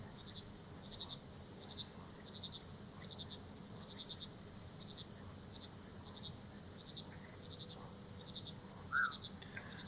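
Frog croaks and cricket chirps from the swampy video game Mudborne form a steady, moderately quiet ambience, with pulsing insect trills repeating throughout and a brief louder call near the end.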